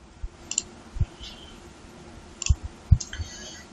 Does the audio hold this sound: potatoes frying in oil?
no